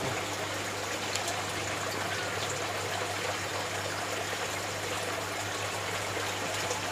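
Water falls continuously into a broodstock fish tank in a recirculating aquaculture system, a steady, even splashing rush over a faint low hum, with no voices.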